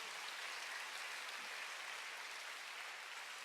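Church congregation applause during a sermon, a dense, even wash of many hands clapping at a steady level with no single clap standing out, fairly faint and continuous.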